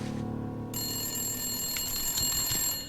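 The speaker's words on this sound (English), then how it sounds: "Who could that be? the phone call." A telephone rings in The Long Dark video game, a steady electronic ringing tone that starts after a brief quiet moment and continues to the end, fairly loud and alone.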